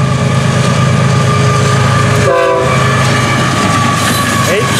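FEC train 109 rumbles close by while its horn sounds in long, steady blasts, with a brief dip midway before the loud roar continues.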